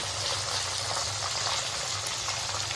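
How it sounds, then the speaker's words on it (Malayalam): Salt water splashed into hot oil while frying raw banana chips with turmeric powder, giving a steady, loud, dense hiss and bubbling roar throughout. "എണ്ണയിൽ ഉപ്പുവെള്ളം ഒഴിച്ച ബഹളമാണ് ഈ കാണുന്നത്"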